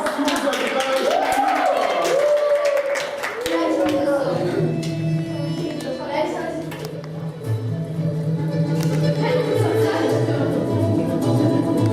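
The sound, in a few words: children applauding for the guitarist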